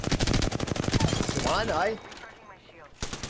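Rapid automatic gunfire from Apex Legends, loud and close, with dense bursts filling the first half, then a pause while a player speaks, and a short burst resuming near the end.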